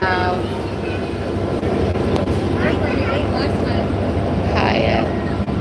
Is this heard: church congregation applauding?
no